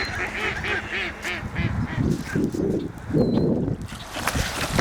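Ducks gathering for food dropped in water quack and honk in a busy, overlapping chorus, some calls close and loud, with splashy noise and a faint voice now and then.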